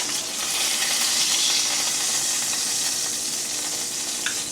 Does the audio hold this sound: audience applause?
no